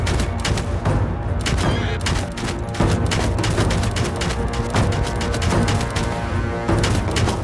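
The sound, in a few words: gunfire in video game Bannerlord Shokuho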